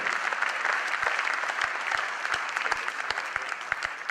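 Steady applause from a seated audience at a Modicare business event, broad dense clapping that continues evenly at moderate level, with a few low thumps underneath.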